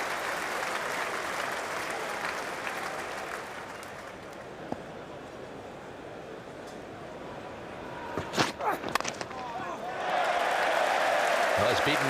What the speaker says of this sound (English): Big cheer goes up all around this ground.